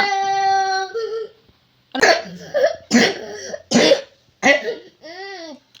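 A feverish child coughs in several separate bursts, close and loud, with short pauses between and a brief vocal sound at the start and end.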